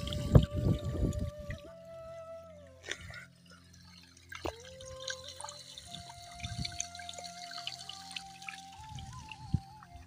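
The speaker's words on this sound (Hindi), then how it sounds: "इस पाइप से पानी जा रहा है रकबे की जानब" Water gushes from a pipe into a field being prepared for onion growing in rural Punjab, Pakistan, with bursts of splashing over a steady low mechanical hum.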